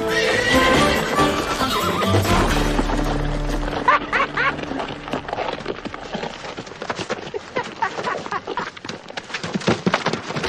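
A horse lets out a loud, close whinny, followed by a run of quick, rhythmic hoof clip-clops on hard ground continuing to the end, with little talk.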